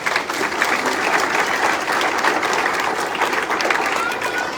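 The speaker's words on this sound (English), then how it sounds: "Please give her a round of applause as well." A crowd at a welcome event for a new DSD class applauds a councilwoman, loud, dense, sustained clapping filling the room with a murmur of voices underneath.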